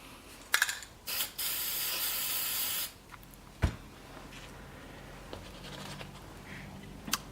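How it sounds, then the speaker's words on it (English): White spray paint hisses from an aerosol can in one steady burst of about two seconds. Short sprays and clicks come before it, and quieter scraping and handling noises follow. "I'm gonna spray some white."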